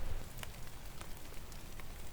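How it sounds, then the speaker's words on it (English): Rain pattering on a lean-to shelter in the woods during an overnight bushcraft camp, a soft steady patter with scattered sharper drips, faint and continuous. "Just gonna let the rain die out a little bit, hopefully."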